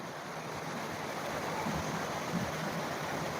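A river with somewhat lowered water flows steadily, a continuous broadband rushing wash at moderate distance, even and unbroken, with no voices.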